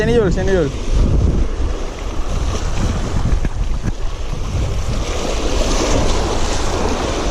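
Steady roar of ocean surf and gusting wind buffeting the microphone, continuous throughout, with a brief voice near the start.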